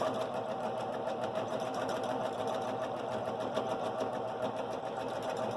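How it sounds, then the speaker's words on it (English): A quilting sewing machine stipples on a Grace Cutie frame, running at a steady even speed with a continuous rapid mechanical chatter, close and unbroken throughout. "So just kind of do your stitches according to the speed of your machine."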